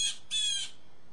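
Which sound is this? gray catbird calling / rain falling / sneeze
gray catbird calling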